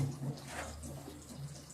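Water drains away with a soft, continuous gurgling and trickling rush, faint and close, steady for a couple of seconds.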